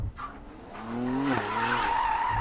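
A 2020 Mercedes-AMG GLC 43 skids through donuts, its tires squealing in a long rising then wavering howl over a steady engine drone, loud and close.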